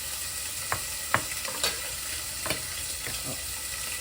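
Food frying in a pan gives a steady background sizzle, broken by a few sharp crackles and pops spread across a few seconds, with no talking.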